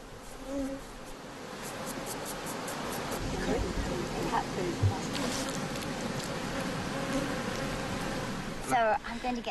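Bees buzz around a honey harvest on Changbai Mountain, a dense, steady drone close to the microphone with a voice faintly present underneath.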